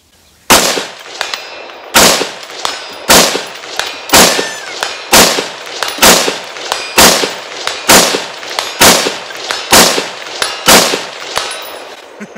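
Rifle shots fired at a 200-yard target ring out one after another, about a dozen sharp loud cracks at a steady pace of roughly one per second, each with a short ringing tail, with no talk.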